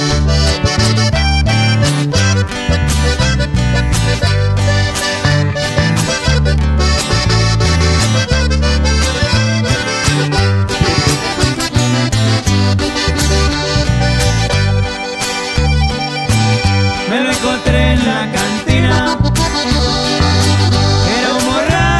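A norteño band plays a song live, a dense and loud full-band performance with a steady rhythmic bass pulse under bright melodic lines, continuous throughout.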